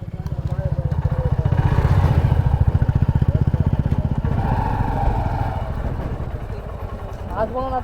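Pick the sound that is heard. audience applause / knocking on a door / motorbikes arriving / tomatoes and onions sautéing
motorbikes arriving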